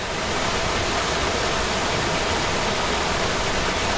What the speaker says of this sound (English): The epic waterfall